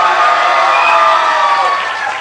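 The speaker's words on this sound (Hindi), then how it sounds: "थोड़ा चिल्लाकर ताली बजा दीजिए जोर से।" Audience at a Hindi-language religious gathering clapping loudly, a dense sustained wash of applause and cheering that fades slightly at the end.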